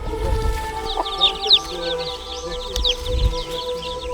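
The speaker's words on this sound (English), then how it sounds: "Chicken?" Chickens cluck softly at a tribal village in the Mentawai islands, Indonesia, with scattered chirps over low background rumble and a couple of dull thuds.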